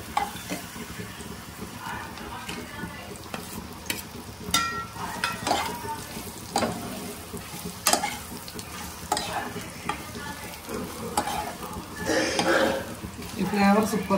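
A spice tempering (tadka) fries in a pan in a home kitchen, giving a crackling sizzle with sharp spattering pops and stirring scrapes, fairly close, while people talk over it.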